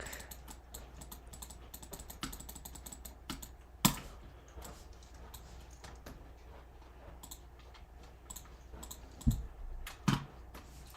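Keys on a computer keyboard click and clack in an irregular run, close and fairly quiet, with a few sharper louder taps standing out.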